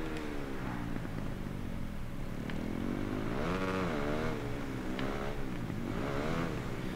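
A Suzuki RG500 two-stroke motorcycle engine in the video game Ride 3 revs steadily, its pitch rising and falling in smooth sweeps, continuous and fairly loud with no voices.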